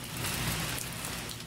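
Steady rain falling, a dense continuous hiss of drops that stays loud and even throughout with no pauses and no voices.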